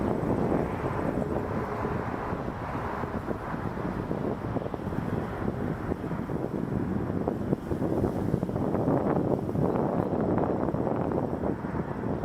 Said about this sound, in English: Good looking Jazz plane.